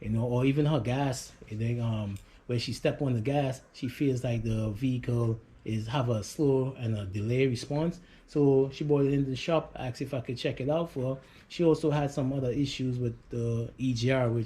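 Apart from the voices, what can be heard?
None of the usual background noises is heard.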